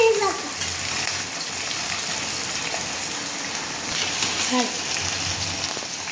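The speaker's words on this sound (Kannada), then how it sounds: "ಇವಾಗ ಈರುಳ್ಳಿ ಫ್ರೈ ಆಗ್ತಾ ಇದೆ" Onions frying in a pan for North Karnataka style chickpea usali, a steady broadband sizzle that holds throughout at moderate loudness, close by.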